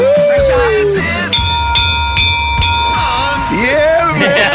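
A handbell rung loudly in a studio during a show, bright ringing strikes repeating under excited overlapping voices and shouting.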